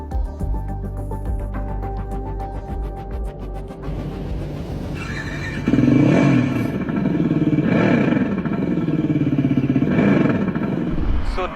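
Synthesized engine sound played by a Revolt RV400 electric motorcycle, a loud artificial hum that swells into repeated revving surges roughly every two seconds, over steady background noise.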